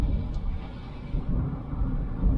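Constant low rumbling road noise inside a moving Hyundai i10 small hatchback with a thin, tinny cabin, a dense steady drone with no voices.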